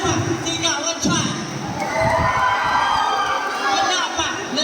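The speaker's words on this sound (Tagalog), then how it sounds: "Wala pa, sigawan dyan." Audience at a gay pageant costume competition in Aguilar, Pangasinan shouts and cheers, a noisy swell of voices and screams with a few thumps, rising and continuing for several seconds.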